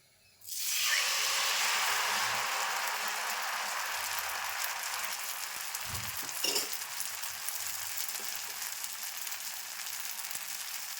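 Batter ladled into hot oil in a pan bursts into a loud, steady sizzle that holds for several seconds, with a brief scrape or clink midway.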